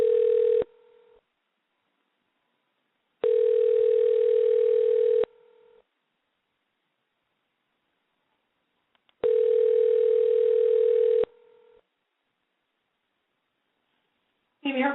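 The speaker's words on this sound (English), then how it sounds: "Let's try to get Mandy back on the line." A telephone ringback tone plays during a live radio show while the host calls back a caller who dropped off the line. It gives two-second buzzing pulses separated by long silences, loud and clear, with a brief burst of sound at the very end.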